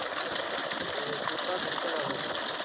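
Steady, loud rush of water gushing from a borewell, about four to five inches of flow, fills the whole clip, a continuous broadband roar with no breaks.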